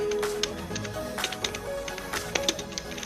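Keys being typed on a budget wired mechanical keyboard, giving a quick run of sharp, uneven clicks and taps, close by and clear over a quiet background.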